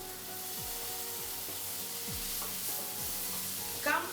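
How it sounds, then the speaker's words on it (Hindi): Boiled potatoes with their skins on and mint leaves sizzle steadily in oil over low heat, with scraping stirring strokes against the pan and a brief louder clatter near the end. "पुदीना अपना एक फ्लेवर छोड़ता है तो कम आंच पे पुदीना हम इसमें फ्राई करेंगे."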